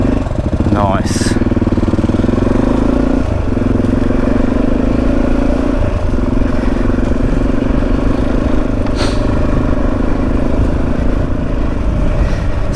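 A motorcycle engine chugs steadily while riding a muddy green lane on The Pilgrims Way in Kent after a storm, loud and close throughout, with brief squeaks and knocks over the constant drone.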